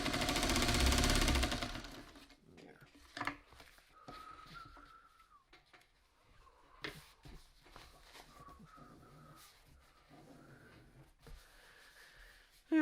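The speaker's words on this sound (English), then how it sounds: "Here, get those two sewn together." A sewing machine joins two quilt block pieces in a short loud burst of close whirring stitching at the start, followed by quiet handling clicks and faint thin tones.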